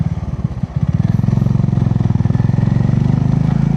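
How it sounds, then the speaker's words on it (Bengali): A motorcycle engine labors steadily at low revs in second gear on a steep, snowy uphill road in East Sikkim, its pulsing chug loud and close, straining continuously without letting up. "যে সেকেন্ড গিয়ারে আছে তাতেই স্ট্রাগল হচ্ছে বাইকের"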